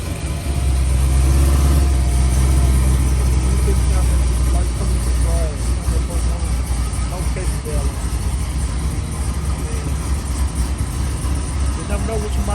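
Steady low rumble of a Chevy SS with an LSA engine running on the road, loud and continuous, with a person talking over it.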